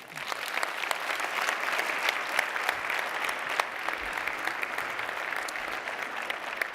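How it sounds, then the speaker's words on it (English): A luncheon audience at an aviation museum anniversary event applauds, a dense, steady wash of many hands clapping at moderate volume, continuing evenly without voices. "Ladies and gentlemen, a nice round of applause for all of them."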